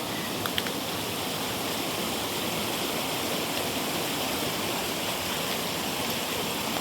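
Steady rushing water from a flowing creek on a spring hike toward Baskins Creek Falls fills the air, an even, close wash with a couple of faint clicks and no talking.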